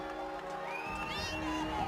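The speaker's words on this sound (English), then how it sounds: "the crowd egging on these fighters" A crowd cheers and shouts to egg on armoured fighters in a 5 vs 5 Battle of the Nations melee, a continuous, moderately loud roar of voices mixed with a commentator talking over it.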